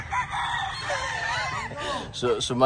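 Roosters crow at a gamefowl farm, sounding near and loud in a rising, wavering call, with further crowing from another bird toward the end and someone talking underneath.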